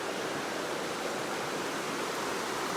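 Cold glacial meltwater from Exit Glacier rushing down an outwash stream in Kenai Fjords National Park, Alaska, a steady broadband roar of flowing water, close and continuous with no talk.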